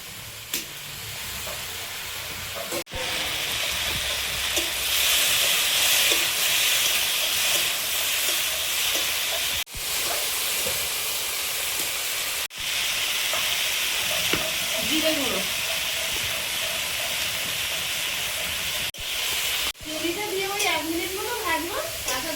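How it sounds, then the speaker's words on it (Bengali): Prawns frying with already-fried okra in a pan, giving a steady, strong sizzle that runs almost continuously, broken by a few short cuts and with faint background noises drifting underneath. "ভেন্ডিটা ভেজে নিয়েছি, এবার চিংড়িটা দিয়ে আর একটু ভেজে নেব।"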